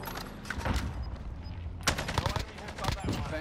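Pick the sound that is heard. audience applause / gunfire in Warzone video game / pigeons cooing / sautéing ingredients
gunfire in Warzone video game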